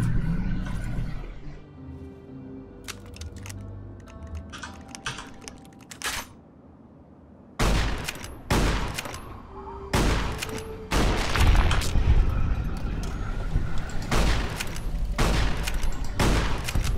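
Grenade launcher fire and explosions in Fallout New Vegas, a series of sharp loud blasts and booms in irregular bursts after a quieter stretch, close and punchy.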